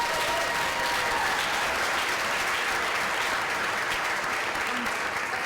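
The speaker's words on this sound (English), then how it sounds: "Let's give her a round of applause." An audience at a startup competition grand finale applauds steadily, dense clapping from a large crowd held at an even level throughout.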